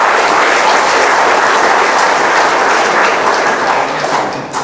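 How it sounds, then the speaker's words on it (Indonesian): Loud, sustained applause from a large crowd, a thick continuous roar of clapping that holds steady before easing slightly at the end. "Kita beri tepuk tangan untuk mereka."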